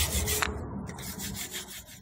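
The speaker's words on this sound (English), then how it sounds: "you just keep scrubbing and scrubbing, get in all the nooks and crannies" Brush scrubbing a rusty brake caliper with hot water, rapid close wet rubbing strokes in a steady back-and-forth rhythm, alone without talk.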